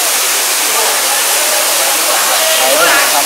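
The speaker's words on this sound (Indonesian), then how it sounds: "Ini yang air terjun yang kecil ada di belakang gua nih." Curug Ciampea, a small waterfall behind a cave on Gunung Salak, roars as a steady, dense broadband rush of falling water that stays loud and close throughout.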